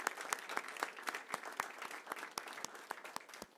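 A room of people at a school board meeting applauds a championship football team, steady clapping with sharp individual claps standing out, fairly distant and fading slightly.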